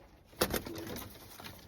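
A racing pigeon cock coos in an aviary: a close, soft series of throaty pulsing coos, rising, then trailing off, with no talking.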